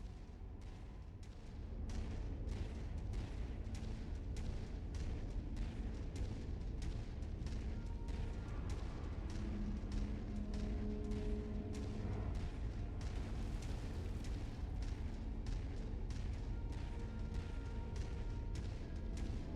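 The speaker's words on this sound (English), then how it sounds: "These Mechwarriors are about to trade laser and cannon blasts." Mechs trade laser and cannon blasts in the MechWarrior 5: Mercenaries video game, heard as a dense, continuous run of rapid booming shots and impacts over a heavy low rumble, with no talking.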